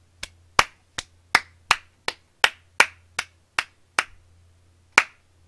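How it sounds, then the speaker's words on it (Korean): One person claps by hand about a dozen times, each clap crisp, sharp and close, in an uneven rhythm with a short pause before a final clap, against near silence. "이거 진짜 좋아서 치는 박수입니다"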